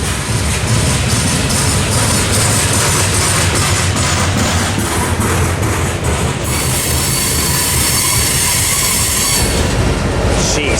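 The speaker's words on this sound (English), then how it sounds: "finally here comes the end of this train" The tail end of a long freight train rolls past close by, heavy continuous rumble with wheel squeal and rhythmic clickety-clack, loud and sustained before the sound shifts as the last cars go by.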